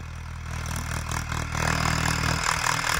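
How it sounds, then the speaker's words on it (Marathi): A farm tractor engine runs with a steady low, rumbling idle and some mechanical clatter, close by and alone, rising slightly partway through. "हा आता बघा ट्रॅक्टर येले, ट्रॅक्टर चालवायला दुसरा भाऊ या"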